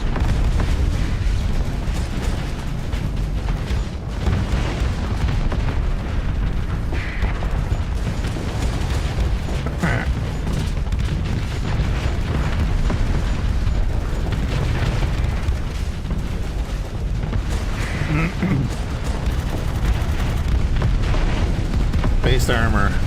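Missile explosions in Starsector come as a dense, continuous barrage of booms and bursts over a loud rumbling mechanical bed, with a voice talking intermittently on top.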